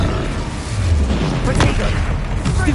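An Incendio fire spell cast in Hogwarts Legacy during a fight with a troll gives a dense, roaring burst that stays loud throughout, with heavy low rumble and a few brighter flares.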